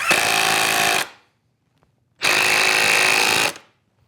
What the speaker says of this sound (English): what I'm going to do is drive a screw in from the back of the leg stop into the hinge plate